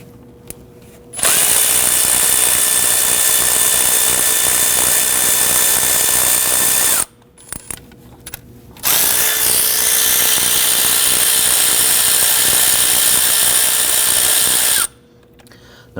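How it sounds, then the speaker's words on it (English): A ratchet with socket and extension loosens the 10mm valve cover bolts on a 2013-2019 Ford Police Interceptor Utility, heard as two long, loud, close whirring runs separated by a short pause with a few clicks. "We're going to use our socket and extension and ratchet to go ahead and then loosen this hardware."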